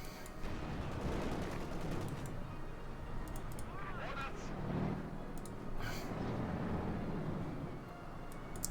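Heavy .50 cal machine gun fire in Company of Heroes 2, a World War II real-time strategy game, clattering in sustained bursts amid battle noise and explosions, mixed under continuous commentary.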